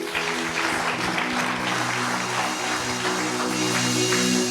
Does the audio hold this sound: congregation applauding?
yes